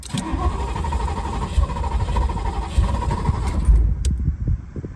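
A Ferrari 308 engine cranks steadily without catching, a loud, continuous rhythmic churning of the starter that runs for about four seconds and then cuts off.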